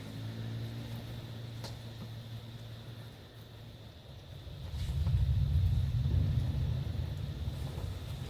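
Thunder rumbling in the distance, a low, soft roll that swells halfway through and lingers as a deep steady rumble, heard alone without talk.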